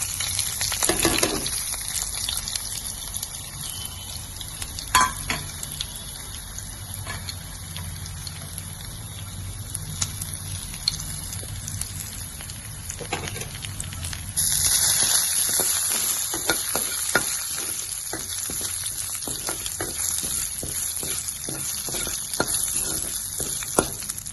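Mango pickle ingredients fry together in hot oil, a steady close sizzle and crackle that runs for the whole stretch and swells louder partway through as more goes into the pan, with no talking.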